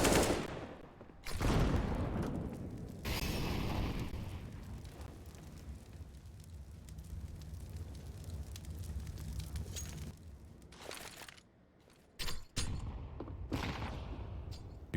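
Grenade blasts and gunfire fill a Counter-Strike match in a CCT West Europe online series game, with several loud booming explosions and rumbling bursts. Sharp shots and clicks are scattered between them.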